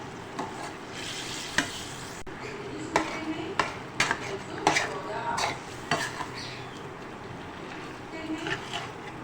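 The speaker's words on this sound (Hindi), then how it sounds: "अब हम फ्रेश क्रीम डाल के खूब अच्छे से इसे मिक्स कर लेंगे।" Khara masala keema with yogurt and fresh cream is stirred in a pan, with repeated scrapes and clinks of the spoon over a soft sizzle, close by, while a voice talks underneath.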